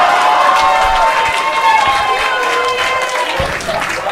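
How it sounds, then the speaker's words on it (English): A stand-up comedy audience bursts into loud, sustained applause and cheering close by, a dense wash of clapping and voices that stays strong throughout and tapers slightly at the end. "A round of applause."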